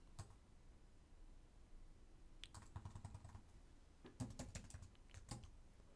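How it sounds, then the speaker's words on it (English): Quiet typing on a computer keyboard, a few short clusters of soft key clicks separated by pauses, close and faint against a low background hiss. "I'm going to go back to our setup here and then type in currency management"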